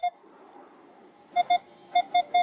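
A metal detector gives short electronic beeps, one at the start then a pair and a quick run of three, over faint background hiss.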